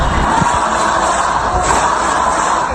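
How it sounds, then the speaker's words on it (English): Theatre audience at a Sunday matinee of the musical Suffs chanting and cheering for the Vice President, a loud dense crowd roar filling the whole clip. "The crowd chanting for the VP right as the curtain went up."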